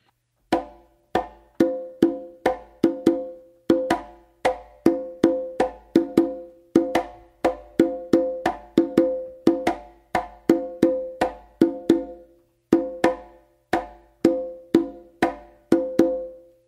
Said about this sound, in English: If you want to separate what the left hand is doing on the conga, it's going to sound like this.